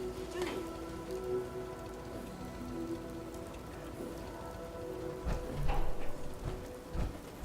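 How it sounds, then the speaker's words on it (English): Steady rain patters on surfaces in the video game Fallout 4, a continuous moderate hiss with scattered drips, growing slightly louder toward the end. "Hope this rain lets up soon."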